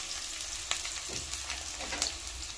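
Onions fry steadily in two to three tablespoons of hot oil, giving a continuous close sizzle with faint stirring scrapes and no talking.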